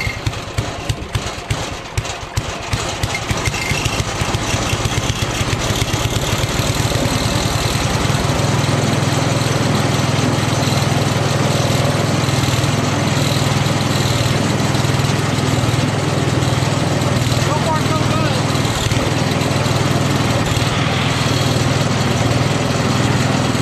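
A 1985 Toro 826 two-stage snowblower with a Briggs 8HP engine is pull-started, catching after a few rapid chugs and then settling into a loud, steady, close running drone.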